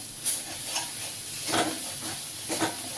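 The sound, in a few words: masala sizzling in a little oil for egg curry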